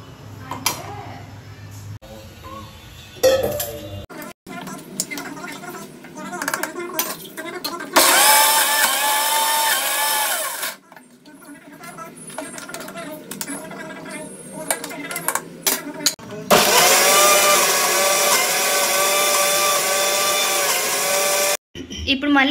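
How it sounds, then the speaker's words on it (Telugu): A mixer grinder whirs loudly while blending chopped raw tamarind into chutney, running in two long bursts separated by quieter pauses filled with clattering and talk. "మిక్సీ పట్టుకోవాలి"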